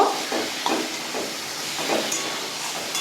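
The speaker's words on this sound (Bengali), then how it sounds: "এবার আমি টমেটোগুলো যেগুলো কুচিয়ে রেখেছি ওগুলো দিয়ে দেবো দিয়ে আমি সব মশলাগুলো একটু ভালো করে ভেজে নেব" Chopped tomatoes and spices fry in a pan while Bengali ghugni is being prepared. A loud, steady hissing sizzle pulses in soft rhythmic swells, as if the mixture is being stirred, and no one is talking.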